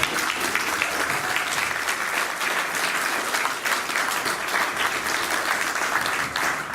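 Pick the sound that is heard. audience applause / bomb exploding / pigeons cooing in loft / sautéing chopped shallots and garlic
audience applause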